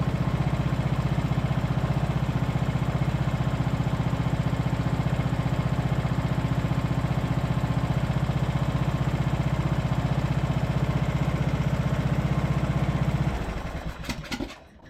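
A small lawn mower engine, a fixed-up junk mower running without choke, idles steadily and loudly up close with a constant low throb, then cuts off near the end.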